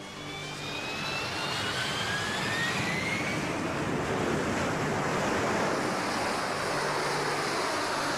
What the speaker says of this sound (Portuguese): 11 toneladas de impulso erguem as 7 toneladas do Harrier